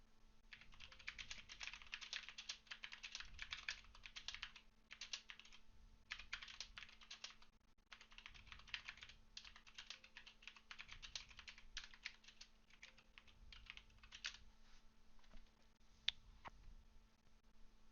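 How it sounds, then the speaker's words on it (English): Steady typing on a computer keyboard picked up in the background by a SteelSeries Arctis Pro Wireless headset mic, rapid clattering keystrokes in bursts with short pauses, fairly faint and with no talking. "now I'm actually typing on my keyboard in the background"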